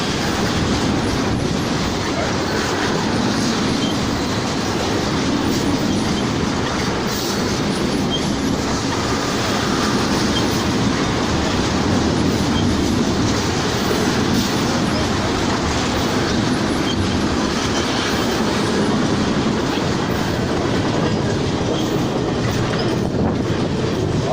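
A CN freight train rolls eastbound past St-André in Kamouraska, a steady loud rumble with continuous clickety-clack of wheels over rail joints and faint wheel squeal, sustained and close for the whole stretch with no talk.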